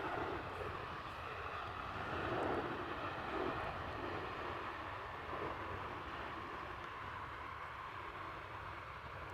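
A business jet landing at Amsterdam Schiphol Airport produces a steady, broad engine roar, moderately distant and fairly constant throughout, with no talk over it.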